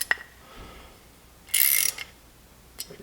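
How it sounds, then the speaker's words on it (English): Wrench ratcheting on the mounting bolts of an Auxbeam 3-inch light pod on an A-pillar mount, a sharp loud clicking burst in the middle with a few faint clicks around it, close up. "get your wrench again, put it back in tightening"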